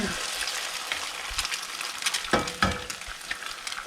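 Egg stirred while frying for stir fry rice, a steady sizzle with scraping stirring strokes and a couple of sharper clacks near the middle, close up and alone.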